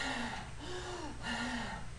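A voice imitates Kussmaul respirations, the rapid deep breathing of diabetic ketoacidosis, with a few heavy drawn breaths in quick succession, close and fairly quiet.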